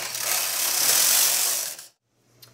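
A knitting machine carriage slides across the needle bed in one sustained, close whirring pass lasting nearly two seconds, then stops abruptly into near silence with a faint click after.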